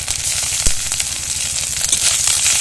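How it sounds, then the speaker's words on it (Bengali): A spice paste of ginger and onion with a bay leaf fries in hot oil in a wok, giving a steady close sizzle with crackles and a sharp pop, no talking. "দিয়ে ভালো করে একটু মশলাটাকে কষিয়ে নেব"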